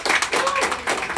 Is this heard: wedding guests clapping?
yes